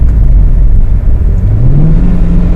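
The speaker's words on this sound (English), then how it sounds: "But you hear that loud ass thing my engine's doing." A manual car's engine drones loudly after a downshift from fourth to second gear, its pitch rising steadily as it revs up, with a constant heavy rumble and no voices.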